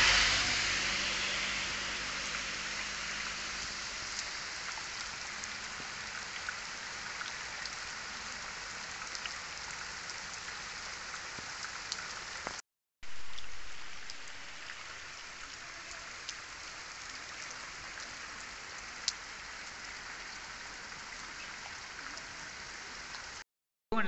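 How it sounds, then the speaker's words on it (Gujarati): Heavy daytime monsoon rain falls steadily outside a house on a hillside village, a constant hissing wash of drops on surfaces, moderately loud and unbroken apart from two brief cuts, with no one talking. "વરસાદ પડી રહ્યો છે"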